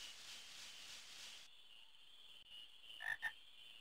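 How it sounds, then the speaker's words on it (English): Frogs croak in the Final Fantasy IX video game, a brief pair of quick croaks near the end following a steady hissing ambient tone that drops away midway. "Aha, frogs."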